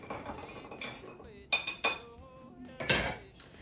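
A metal bar spoon clinks and scrapes against a glass while an Old Fashioned cocktail is stirred, irregular bright taps and rattles close by, with a louder clattering burst near the end.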